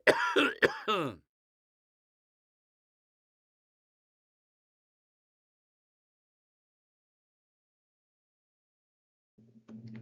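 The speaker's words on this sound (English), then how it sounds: "that was a cough" A single short cough sound effect, a quick rough burst of about a second alone, followed by long silence.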